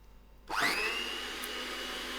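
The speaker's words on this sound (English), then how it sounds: "I am using my electric whisk" An electric whisk mixing cream and cheese for tiramisu starts up abruptly and runs as a steady, loud, high-pitched motor whine with a rising pitch sweep, close by and with no talking.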